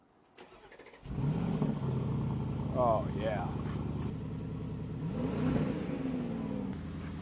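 A Mercedes G550 engine cranks and catches, then settles into a deep, steady idle with a couple of revs rising and falling; a brief voice comments over it.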